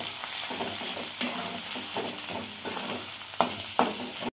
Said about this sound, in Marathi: आता हे व्यवस्थित भाजून घ्यायचं तेलामध्ये.